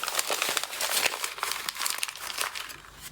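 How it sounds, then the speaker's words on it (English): Sheets of painted paper are crumpled by hand, a dense run of crisp crinkling and crackling bursts, close and quiet, with no voices. "so I'm gonna crumple it again"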